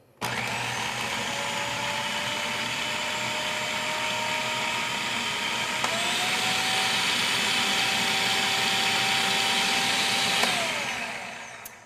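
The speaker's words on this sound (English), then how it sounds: "we're going to turn the machine back on until this is completely" A food processor whirs steadily for about ten seconds while emulsifying an anchovy dressing, its motor pitch shifting slightly partway through before spinning down at the end.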